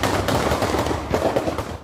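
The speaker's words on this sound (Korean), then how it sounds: "거리 공연을 하다 총소리에 놀라 멈춥니다." Gunfire erupts on a city street in Tampa, Florida, during a Halloween-weekend shooting, a rapid burst of loud, closely spaced cracks echoing off buildings, with no voices heard.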